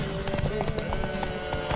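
A horse's hooves in The Witcher 3 video game, rapid rhythmic clip-clop beats at galloping pace, close and steady, mixed with game music tones and brief murmurs of voice.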